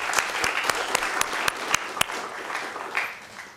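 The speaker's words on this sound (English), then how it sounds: "Let's all give a big round of applause to Al" Applause for Commissioner Al Higginbotham at his farewell ceremony: a moderate room of people clapping steadily, with a few sharp individual claps standing out, tapering slightly toward the end.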